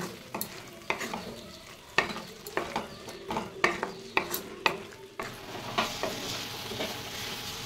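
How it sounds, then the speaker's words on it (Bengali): A spice paste with chili powder and fish masala is stirred as it fries in a pan, with soft sizzling under a run of irregular scraping and clinking strokes of the spoon. No one speaks. "মশলাটা দিয়ে এবার ভালো করে কষিয়ে নেব।"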